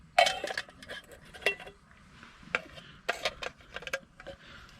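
A metal frying pan set back on top of another pan at a car-camping cookout, giving a sharp clink followed by several lighter scattered metallic taps and clatters, close and fairly quiet with no talking.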